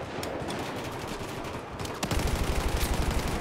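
Gunfire in Battlefield 4 online multiplayer, with scattered distant shots giving way to a loud, rapid burst of repeated blasts close by, no voices heard over it.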